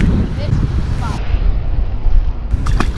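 Wind gusts across a lake outdoors during a spring bass fishing trip, a rough, blustery roar buffeting the microphone, with a person's voice breaking in briefly.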